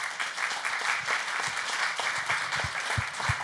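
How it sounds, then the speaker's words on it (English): Audience applause for the speakers of a keynote panel discussion, steady dense clapping from a conference crowd that holds at an even level throughout the few seconds. "Round of applause for these gents right here."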